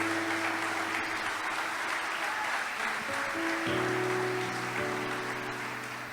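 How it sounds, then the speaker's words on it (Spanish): A church congregation applauding during a Spanish-language sermon, loud sustained clapping from a large crowd with a held musical tone shifting underneath and no talk. "Dale ese aplauso al Señor."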